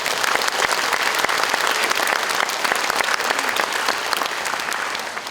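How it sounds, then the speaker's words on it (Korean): Sustained audience applause fills a hall at a carbon neutrality pledge event, dense steady clapping from a large crowd that holds loud throughout and eases slightly at the end. "존경과 감사의 말씀을 드리면서 다시금 큰 박수로 예를 펴주시기 바랍니다."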